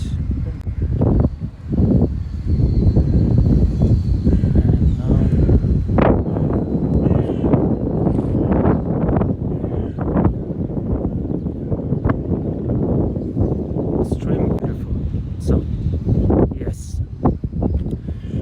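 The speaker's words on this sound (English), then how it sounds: "this wind sucks so much" Outdoor wind buffets a microphone in heavy, rumbling gusts, loud and nearly continuous, with a person speaking intermittently beneath the roar.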